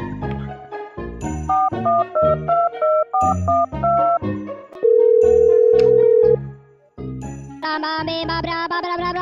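Electronic phone tones: a string of short beeps and melodic ringback notes, then a long steady tone and a buzzy ringing pattern, loud and clear.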